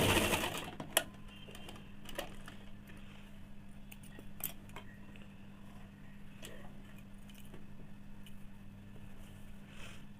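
A sewing machine running a double seam on fabric for a semi salwar, a quiet continuous hum with light ticking, steady throughout at low level.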